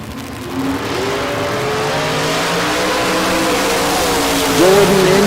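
Drag racing cars launching off the starting line at bracket races at the Texas Motorplex, a loud engine roar building and holding steady with a rising whine near the end, heard from a distance.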